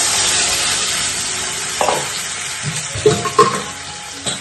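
Boiled lentils poured into a hot pan with ginger and stirred, a steady hiss giving way to wet splashing and spoon scrapes near the end, close by with no talk.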